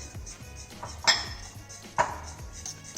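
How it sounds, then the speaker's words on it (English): Macaroni and cheese is stirred in a pot as the cheese melts, with repeated soft scraping strokes and two sharper clinks of a utensil against the pot. "We start mixing that in and let it melt"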